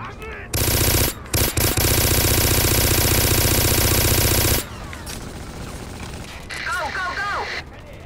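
Rapid automatic gunfire in a video game mission rattles loudly for about four seconds in a dense burst, then drops to quieter game ambience with a player speaking over it.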